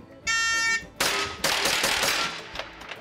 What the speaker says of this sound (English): So, Mark, I just saw you shoot